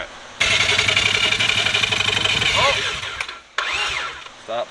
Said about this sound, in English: Oh, backfire!